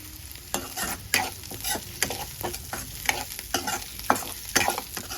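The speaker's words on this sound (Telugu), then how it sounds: "పచ్చిమిరపకాయలు వేగేటప్పుడు దానిలో కొంచెం జీలకర్ర వేయాలి" Green chillies and cumin fry in a pan for tomato chutney, a close, continuous sizzle broken by frequent spatula stirs and scrapes in an uneven rhythm.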